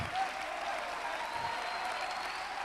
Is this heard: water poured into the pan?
no